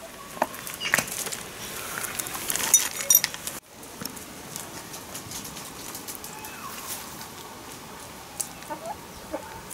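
Chickens cluck and scratch while feeding on squash pulp in a forest garden. The short clucks and faint clinking pecks are irregular and fairly near, with a sharp drop in the background level partway through.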